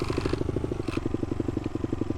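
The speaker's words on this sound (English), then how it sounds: "So if we crash this whilst in neutral," Idling motorcycle engine in the TrackDayR racing game after the bike crashes in neutral, a steady rapid low pulsing putter with a brief scrape or clatter near the start.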